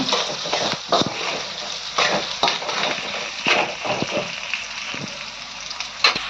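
Garlic frying and browning in a pan for a traditional South Indian mochai kuzhambu, a steady close sizzle broken by repeated stirring scrapes and light clinks.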